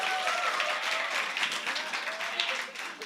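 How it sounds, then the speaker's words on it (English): Audience at the Oorahthon 2021 event applauding a child soloist, a dense, steady wash of clapping from many hands lasting about three seconds at moderate distance. "Give him a round of applause."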